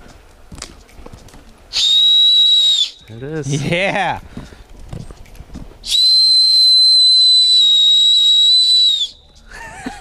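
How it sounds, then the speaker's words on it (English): A shrill, piercing whistle blown through an acorn cap held between the thumbs sounds in two long blasts, the second held for about three seconds, with brief talking and a wavering squeak between them. "All right, let's see if I can do this acorn whistle."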